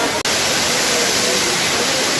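Glacier meltwater waterfall at Bhagsunag roaring as a loud, steady broadband rush, close and continuous throughout, with a brief dropout near the start.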